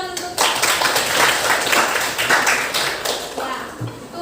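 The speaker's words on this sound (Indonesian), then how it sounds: "Tepuk tangan untuk." A classroom of students claps during a mathematics lesson, a few seconds of dense, close hand clapping that swells and then fades, with some talk underneath.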